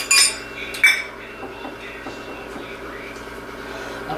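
A bowl clatters twice against kitchen dishes, with two sharp clinks in the first second, followed by soft handling noises and low background hum before baking cookies.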